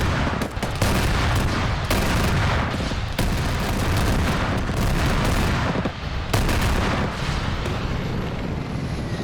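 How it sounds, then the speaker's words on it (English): Airstrike explosions and gunfire in a large multiplayer military shooter match, a dense, continuous barrage of booms, cracks and rumbling blasts overlapping for several seconds with no pauses. "Beautiful airstrike, but it's not going to do much."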